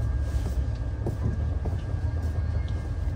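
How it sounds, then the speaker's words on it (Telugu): A passenger train leaving Dharwad rumbles steadily with a deep, loud roar and rhythmic clatter of wheels, heard from inside the carriage without voices. "ధార్వాడ్ నుంచి మన ట్రైన్ అయితే బయలుదేరిపోయింది."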